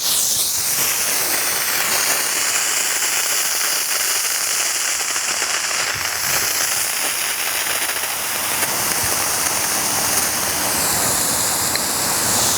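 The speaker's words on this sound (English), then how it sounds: "it did have another stream of water coming out of it, and now it's a fine mist." A sprinkler head hisses loudly and continuously as compressed air blows water out as fine mist while a lawn irrigation system is being winterized, a steady close spray with no pauses.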